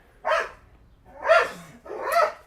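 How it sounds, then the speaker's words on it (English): A bunch of dogs bark while passing by, three loud, close barks spaced about a second apart with no talking. "There's a bunch of dogs coming by."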